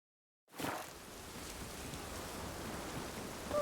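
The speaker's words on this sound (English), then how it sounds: "Oh, raining again." Steady rain in The Witcher 3: Wild Hunt, a dense hiss that starts abruptly and keeps an even, close downpour texture throughout with no voices.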